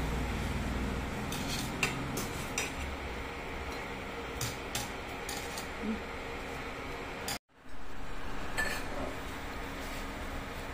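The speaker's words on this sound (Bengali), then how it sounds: "এবার আমি এটাকে অফ করে দিয়ে এক এক করে ছাঁকনার সাহায্যে আমি তুলে রেখে দেবো" A metal strainer clinks and taps sparsely against a pot as lightly boiled pieces are lifted out one by one after the heat is switched off, over a low steady kitchen background with a brief dropout partway through.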